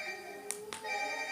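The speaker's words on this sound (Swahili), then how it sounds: "simu inaita. Inaita." A mobile phone rings indoors with a steady electronic tone, faint and continuous with a couple of light taps over it.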